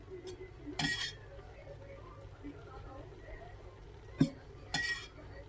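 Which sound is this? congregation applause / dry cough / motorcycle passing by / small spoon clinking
small spoon clinking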